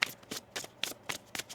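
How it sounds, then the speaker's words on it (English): Tarot cards riffled and shuffled by hand in a quiet room, five or six crisp papery bursts in a steady rhythm, close and clear with no talking. "One more shuffle."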